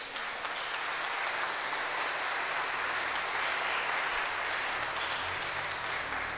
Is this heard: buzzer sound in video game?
no